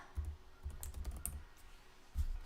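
Keys tapped on a computer keyboard while searching for a Bitcoin chart in trading software, a few short bursts of soft, close clicking with pauses between, no talking.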